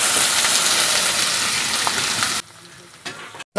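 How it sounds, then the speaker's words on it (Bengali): Onions fry in hot oil in a pan with a loud, dense, crackling sizzle for a couple of seconds, then it abruptly drops to quieter, patchy hissing. "দেখুন পেঁয়াজটা খুব সুন্দরভাবে ভাজা হয়ে যাচ্ছে"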